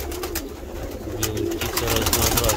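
Pigeons of several fancy breeds, white, nut-brown, marbled and red among them, coo steadily and close at hand inside a loft full of young birds, the low murmuring continuous throughout.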